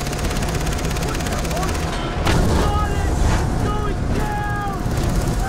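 In the video game Far Cry 3, a boat pounds through rough sea waves, giving a continuous loud rush of water and wind with a heavier surge midway and faint tonal game sounds on top.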